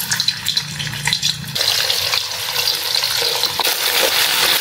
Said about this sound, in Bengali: তেলটা গরম হয়ে গেছে। এবার আমরা আস্তে আস্তে আলুগুলোকে ছেড়ে দিব